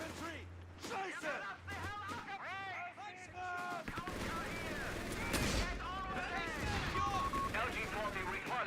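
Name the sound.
gunfire in the video game Company of Heroes 3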